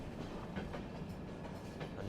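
A train rolls into Kollam railway station in Kerala, its steady rumble and clickety-clack of wheels over rail joints continuing evenly and fairly quietly throughout, with no voices.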